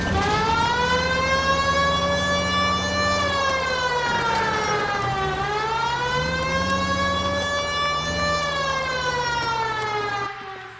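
A police car siren from the video game L.A. Noire wails loudly and continuously for about ten seconds, its pitch sweeping up and down in slow cycles over a low engine rumble.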